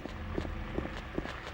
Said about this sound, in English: And you can hear the footsteps.